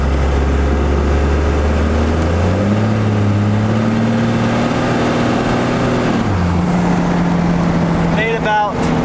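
A turbocharged car engine revs up steadily under about 11 psi of boost, rising in pitch through a gear, then drops and climbs again, loud and close, ending with a brief whine.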